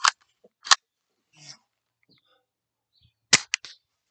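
Buck Jones BB gun fired outdoors at a target, sharp dry cracks and clicks scattered across a few seconds, with a louder snap cluster near the end and quiet handling noises between.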